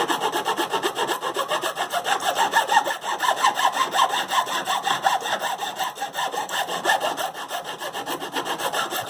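Guitar fret ends on a neck are worked with a file in steady, rhythmic rasping strokes, close and continuous, with no voices.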